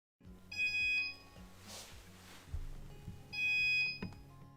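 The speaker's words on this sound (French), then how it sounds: "nous avons entendu les 2 bips consécutifs. Le NAS est maintenant démarré" A QNAP TS-251D NAS gives two separate electronic startup beeps, each short and bright, with a low mechanical hum and clicks from the unit between them.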